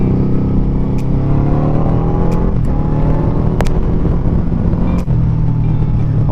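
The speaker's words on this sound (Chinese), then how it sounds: "它这个声浪挺大的" A QJmotor Flash 600 V4 cruiser motorcycle engine revs loud and close, a steady throbbing drone with rising and falling pitch and a few sharp exhaust pops and crackles along the way.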